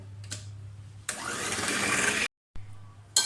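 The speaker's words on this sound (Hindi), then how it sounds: "और दोबारा से बीट करना शुरू करें।" An electric beater whirs steadily through tea cake batter for about a second, then stops abruptly, close and fairly loud, with a lower hum before and after.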